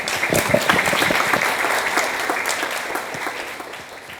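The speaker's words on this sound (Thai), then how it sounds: "ปรบมือด้วยนะครับ" Audience applause at a formal ceremony after a ribbon-cutting, sustained, even clapping from a sizeable crowd that holds steady and slowly softens over several seconds.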